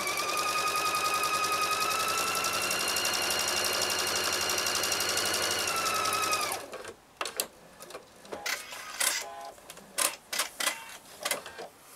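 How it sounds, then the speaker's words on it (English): Sewing machine stitching back and forth over the elastic end of a strap on a child's face mask, a fast continuous mechanical whir for several seconds, then stopping and giving way to soft handling clicks and rustles. "I'm kind of sewing a couple of times over the elastic end and then back down the other side"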